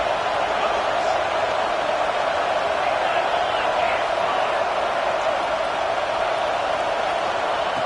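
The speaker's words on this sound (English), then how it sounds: "It's early, but this crowd is fired up. Listen to this noise here." Crowd noise from a packed stadium in the College Football 26 video game, a steady, loud broadband roar with no breaks, from a playoff game between LSU and Colorado.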